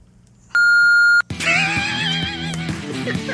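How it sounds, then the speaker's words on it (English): A single steady voicemail beep, a clean tone held for under a second, then cut off as louder, busier sound takes over. "Please leave a message after the beep."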